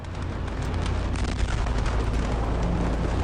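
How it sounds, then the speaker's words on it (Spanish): The Beirut port ammonium nitrate explosion: a massive, continuous roaring blast rumbling with dense low-end energy, loud and unbroken throughout, like a huge explosion heard from a distance. "se produjo la primera explosión"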